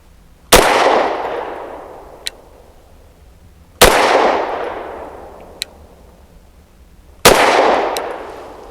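BUL Armory SAS II TAC 4.25 pistol firing SIG Elite Defense V-Crown 115 grain rounds: three loud, sharp shots spaced about three seconds apart, each with a ringing decay and a faint click between shots.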